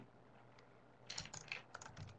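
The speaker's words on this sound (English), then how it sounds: "And then I would start typing in" Computer keyboard typing, entering evidence into a course overview: quiet at first, then a burst of clustered keystrokes in the second half, moderately close and not covered by talk.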